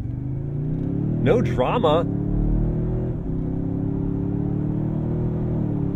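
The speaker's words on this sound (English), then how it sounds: "let's do a 0-60 test. We'll go to sport, brake boost, off the line we go." A 2023 Toyota Sequoia in sport mode launches from a brake-boosted standing start in a 0-60 run, its engine a steady, close rumble under the cabin throughout, with a voice speaking briefly partway in.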